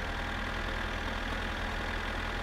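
A slow tractor engine runs in My Summer Car, a steady low, chugging drone that stays loud and unbroken with no talk over it.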